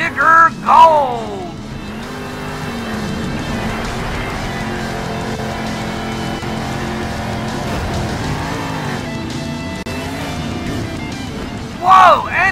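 Grave Digger Gold monster truck engine in the Monster Jam Steel Titans video game, revving and roaring steadily for several seconds with loud bursts near the start and end, while a commentator talks throughout.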